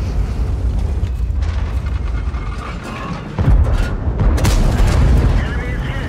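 A Kampfpanzer 07 PE tank cannon in World of Tanks fires one loud, deep boom partway through, followed by rumbling battle noise, while a player talks over the game sounds.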